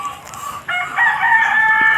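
A rooster crows loudly and close by on a rural plot, the call rising partway through and held strong to the end, with no talk over it.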